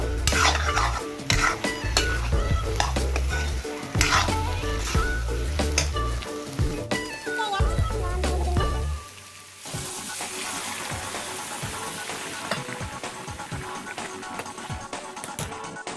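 Potatoes and spices for a pigeon meat curry stirred and fried in a pan, with steady sizzling, repeated scraping strokes of a spoon against the metal and clattering utensil knocks throughout.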